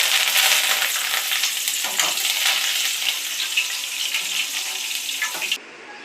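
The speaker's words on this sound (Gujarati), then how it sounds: "આપણે ધાણા લીધા છે, એ પણ તળી લેશું." Coriander seeds fry in hot oil with a bright, close, steady hiss that thins out toward the end and cuts off abruptly.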